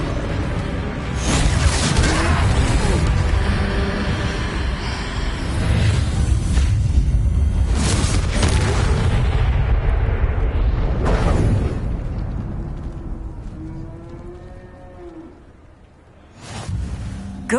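Loud explosive blasts from the Confringo curse in Hogwarts Legacy during a troll fight, with heavy booming bursts rumbling almost continuously through the first half, then fading into quieter effects before a final burst.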